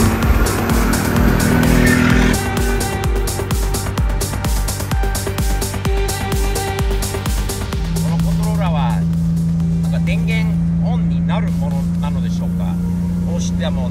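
A Nissan Skyline R33 with a twin-plate clutch drives on the road, its engine a loud steady drone that shifts to a lower, even hum partway through, while someone talks at times.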